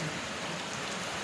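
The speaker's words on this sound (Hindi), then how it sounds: "हमारे शिवपुरी शहर में आज रात में बढ़िया धुआंधार बारिश है" Heavy nighttime downpour over Shivpuri city, a dense, steady hiss of rain hitting surfaces with no let-up, loud and continuous with no voices.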